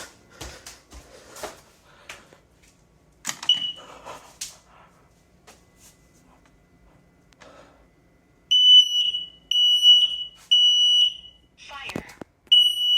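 A smoke alarm is tested indoors and sounds four loud, shrill beeping bursts in a regular rhythm near the end, after quieter rustling and a dog's whimpers and barks.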